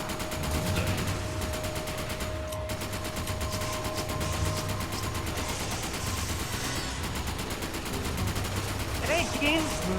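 Gunfire in the Resident Evil 5 co-op campaign, a steady stream of rapid, close shots running the whole time over a constant game hum, with faint talk mixed in.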